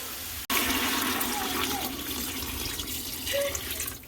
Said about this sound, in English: I'm going to add about 8 cups of water since everything is getting brown down there and delicious